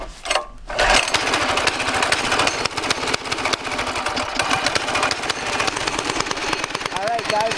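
A go-kart engine runs steadily on a frozen lake, a loud continuous buzzing drone with rapid pulsing after a brief quieter start.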